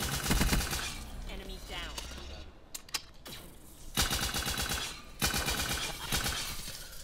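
Rapid automatic gunfire from a gun in a shooter video game, loud bursts of quick shots with short pauses between them, and a voice briefly calls out in the game.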